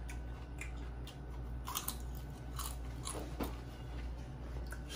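Crispy fried chicken skin being bitten and chewed close up, a run of loud crackling crunches repeating steadily for several seconds, with no talk.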